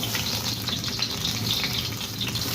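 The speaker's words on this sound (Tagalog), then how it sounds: "Pag umusok na, lagay na natin guys yung sibuyas." Onions go into smoking-hot cooking oil in a pan, making a continuous close sizzle and crackle at a steady level with no talk.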